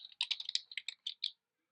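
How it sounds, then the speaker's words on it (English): Quick burst of about a dozen keystrokes on a computer keyboard, close and crisp with uneven rhythm, then silence, with no voices. "excuse my bad typing"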